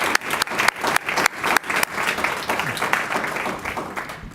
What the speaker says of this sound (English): A little round of applause for our